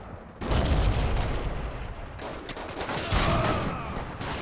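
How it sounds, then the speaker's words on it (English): Gunfire in the World War II shooter game Forgotten Hope 2, a dense continuous rattle of rifle and machine-gun shots with booming impacts, loud and sustained for several seconds. "I'm getting shot at, that's not good"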